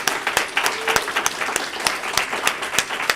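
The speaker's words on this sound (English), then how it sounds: "Can we just give thanks and give a big round of applause to all of the award winners?" An audience at a library research awards ceremony gives the award winners a big round of applause, a dense, steady clapping from many hands that sounds full and close with no talking over it.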